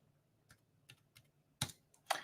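Keys clack on a computer keyboard as someone types measurements into woodworking design software for a fall-themed over-the-sink dish rack. A few soft, spaced taps are followed by two louder, sharper keystrokes, close and without speech.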